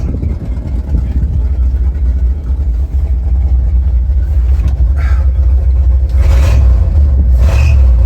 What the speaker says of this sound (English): Motor's running nice.